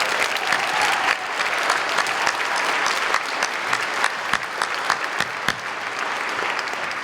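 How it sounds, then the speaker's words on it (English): An audience at KeyboardFest gives a percussionist, Tom Ryden, a sustained round of applause, dense steady clapping from a large crowd filling the whole stretch with a few sharper claps standing out. "So please, one more time, a nice round of applause for our awesome percussionist, Tom Ryden"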